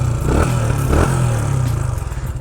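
A 4-stroke 125cc sport motorcycle ridden fast toward top speed, its engine droning steadily and loudly up close with wind rush and a slight rising pulse.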